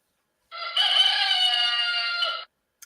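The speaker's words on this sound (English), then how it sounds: "Hey, chicken. How are you? Look, we got Chicken Andy on the screen" A rooster crows once, a long, loud, sustained call of about two seconds heard up close and on its own, with a short click right after it ends.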